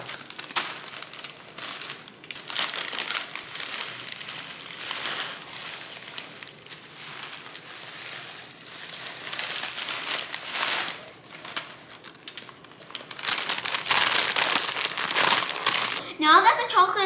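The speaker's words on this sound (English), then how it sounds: "Now we're going to put the crispy rice into this bowl." Crispy rice cereal pours into a bowl with a crackling, rustling patter that rises and falls over many seconds, growing denser toward the end, with a voice talking briefly at the close.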